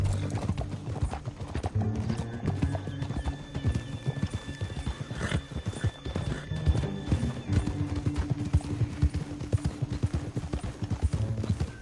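Horses gallop in Red Dead Redemption 2, rapid hoofbeats clip-clopping steadily through the whole stretch, with a neigh rising partway through over a low rumbling background.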